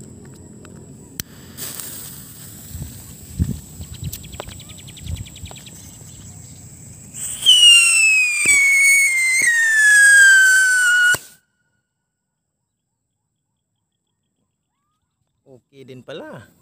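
A homemade firework whistle gives a shrill whistling tone that slides downward in pitch for a few seconds, loud and close, after a stretch of background clatter and voices, then silence.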